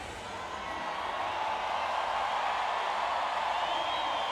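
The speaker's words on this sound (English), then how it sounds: "Enormous cheer for Brazil once again as Daniel Dias marches out" Broad, steady crowd roar at a Paralympic swimming venue in Rio, spectators cheering for Brazil, a distant wash of sound that swells slightly and holds.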